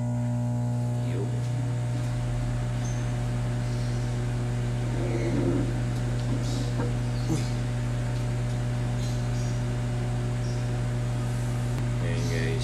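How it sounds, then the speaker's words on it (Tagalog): A microwave oven's steady electrical hum with a low drone runs throughout, with a few faint clatters and brief sounds over it. "Tsaka natin ima-microwave."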